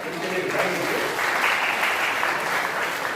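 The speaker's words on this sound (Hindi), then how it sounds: "एक बार जोरदार तालियां है इनके लिए बधाई दीजिए" An audience at a Hindi kavi sammelan poetry gathering in Sitapur claps steadily in a dense, continuous wash of applause, loud and sustained with no pause across the few seconds.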